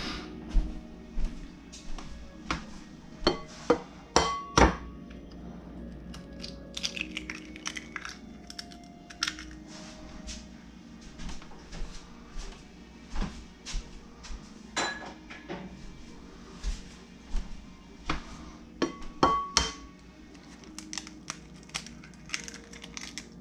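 Three eggs cracked into a baking dish alongside brown sugar, heard as sharp, quiet taps and shell cracks in uneven bursts with small clinks of dishware, close and without talk.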